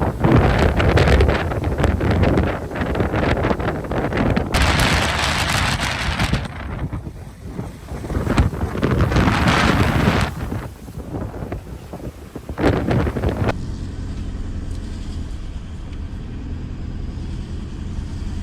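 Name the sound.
strong wind at sea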